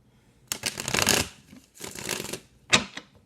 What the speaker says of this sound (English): I'm going to give it some couple shuffles